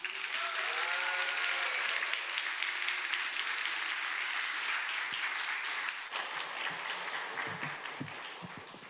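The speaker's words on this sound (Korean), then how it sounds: "다 같이 한번 같이 박수로 그렇게 우리 모시도록 하겠습니다." A church congregation claps together at a Sunday service, a dense roomful of applause that holds steady, then thins and fades out toward the end.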